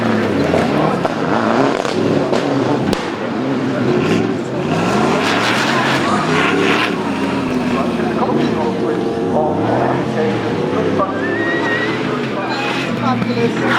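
A race car driven hard up the hill at the Goodwood Festival of Speed gives a loud, continuous engine roar that rises and falls with gear changes and braking, while a commentator talks over it throughout.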